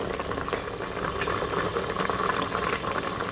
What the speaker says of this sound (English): So now I'm going to reduce the stock by half, and then I'm going to thicken it.